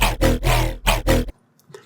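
Riddim wobble bass synth patch in Serum with full downsampling applied: four gritty, snarling bursts with a bright, metallic upper edge, played in a choppy rhythm before falling quiet.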